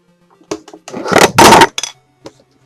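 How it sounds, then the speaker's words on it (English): A microphone tumbles over with a few sharp, close knocks followed by a louder clattering thud, then a last small tap, in an otherwise quiet room. "That thunk noise you heard is my microphone falling down."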